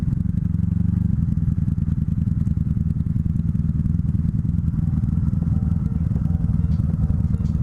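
Honda Magna bobber motorcycle attempting a drift: a steady, loud, low engine drone runs throughout, with a rougher, rattling onset in the first second before the note evens out.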